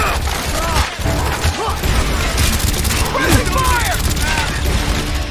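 Bursts of gunfire crackle in Call of Duty: Black Ops amid loud in-game combat clatter and booms, with voices talking over the shooting.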